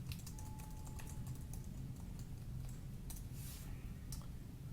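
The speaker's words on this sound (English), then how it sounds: "You just type in your email address." An email address is typed on a computer keyboard: soft, quick key clicks in short bursts, faint and close beneath a steady low room hum, with no talk.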